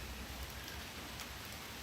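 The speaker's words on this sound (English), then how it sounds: "It's been raining all fucking day here." Rain falls steadily on a backyard, a soft even hiss of drops on surfaces, faint and unbroken, with no voices.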